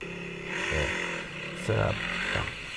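A trail motorcycle engine revs in short bursts, rising twice over a rough idle, with people talking over it in Indonesian.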